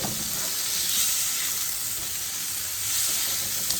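Chopped tomatoes sizzle in a pan with capsicum for a stuffed bell pepper starter, a steady, close hiss of frying under continuous stirring, without speech.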